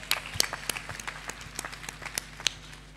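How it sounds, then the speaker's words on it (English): Scattered applause from an audience at a university welcome ceremony for new undergraduate students, sparse, uneven claps in a quiet hall, fairly faint and not very dense. "Give yourselves a round of applause."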